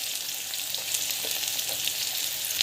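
Asafoetida and green chilli sautéing in hot oil in a pan, a steady close sizzle with faint crackles and scrapes throughout and no voices.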